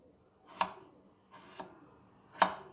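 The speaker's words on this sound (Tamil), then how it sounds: "தக்காளியும் நம்ம வெட்டிக்கலாம்." Tomatoes being chopped with a knife on a board for a coconut milk egg curry: three separate, sharp chops spaced about a second apart, close and fairly quiet.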